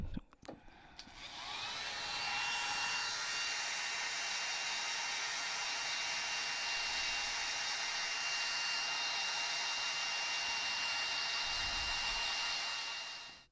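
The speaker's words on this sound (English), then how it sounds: "I might get the hairdryer out real quick and get these dried a little quicker" A hair dryer switches on after a short clatter and blows with a loud, steady whir that holds constant to the end.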